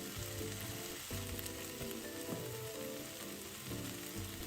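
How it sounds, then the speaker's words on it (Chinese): Minced pork filling with sesame oil and fresh red chili is stir-fried in a wok, giving a loud, continuous close sizzle with occasional stirring scrapes and soft music underneath. "繼續炒勻後熄火"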